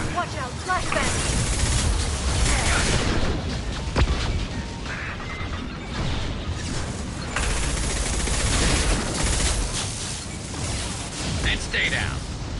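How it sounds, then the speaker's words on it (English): Flashbang blast and bursts of gunfire in the Mass Effect 2 video game, dense rattling fire and booms throughout, with voices talking over the combat. "Watch out, flashbang!"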